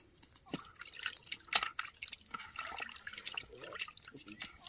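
Water runs and drips off a baby monkey during a rinse, a close, irregular trickle and patter of droplets with soft splashes, and a quiet voice murmurs in the background.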